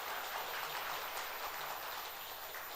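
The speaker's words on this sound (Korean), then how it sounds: "다시 한번 박수 한번 보내주실래요?" A church congregation applauds during Sunday Epiphany mass, a quiet, steady patter of many hands clapping in a large room, heard from a distance for a few seconds with no speech.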